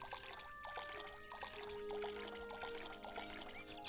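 Water poured over crops in the cozy farming video game Pine Lily Village, a steady splashing trickle under a gentle tonal game music bed, with no voices.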